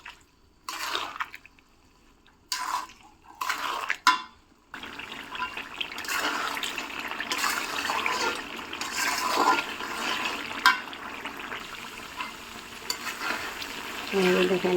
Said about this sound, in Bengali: চিনি দেওয়ার পর আচারটা অনবরত নাড়তে হবে,